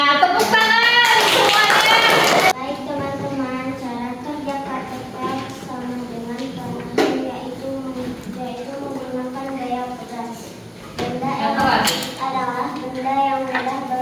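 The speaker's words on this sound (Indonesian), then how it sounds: "Nah, tepuk tangan semuanya." Children in a classroom clap their hands in a brief burst at the start, followed by a voice talking for the rest of the clip.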